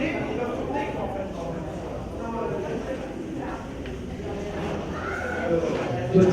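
Horses move around an indoor arena during a liberty-work demonstration at an equestrian congress, with hoof clops and a brief whinny under steady nearby talking.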